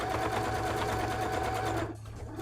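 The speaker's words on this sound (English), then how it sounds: "So this is just regular sewing machine stuff, and we're just doing some embroidery with it for funsies." A sewing machine stitching straight lines for embroidery runs in a steady, fast, even whir, loud and close, then abruptly stops near the end.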